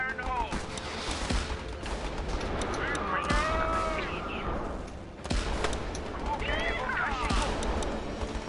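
Artillery and gunfire in the video game Battle Island Commanders, a steady rumbling barrage of shots with whistling shells arcing overhead, a sharp blast near the middle, and voices talking through it.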